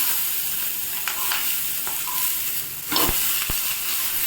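Onions dropped into smoking-hot oil in a pan crackle with a bright, steady sizzle, close up, broken by a couple of sharp knocks from a utensil against the pan.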